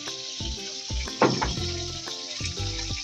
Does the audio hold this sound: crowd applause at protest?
no